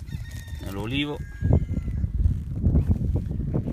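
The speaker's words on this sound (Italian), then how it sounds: "C'è il gallo che canta" Rooster crowing once in an olive grove, a rising then falling crow near the start, followed by low rumbling outdoor noise and someone talking.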